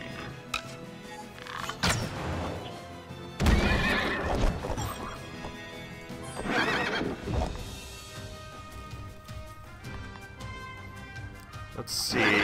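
Horses in the video game Child of Light neigh and whinny in several loud bursts, with clip-clop hoofbeats and game effects between them.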